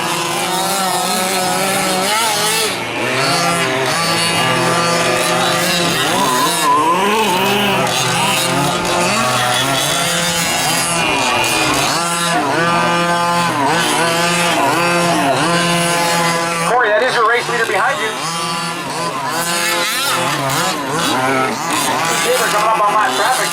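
Several 2WD electric RC trucks racing in an open sportsman B main, their motors whining and rising and falling continuously under a loudspeaker race commentator talking throughout.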